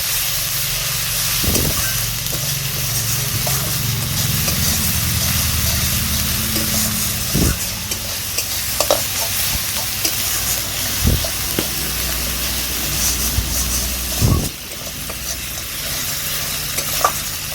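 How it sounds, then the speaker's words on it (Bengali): Onions fry in oil with salt and turmeric as a spoon stirs them around the pan, producing a continuous loud sizzle broken by several sharp scraping knocks of the utensil. "এবার এতে দিয়ে দেবো পরিমাণ মতো লবণ, দিয়ে দেবো হলুদ গুঁড়ো। সব কিছু ভালো করে আমি নেড়ে চেড়ে নেব।"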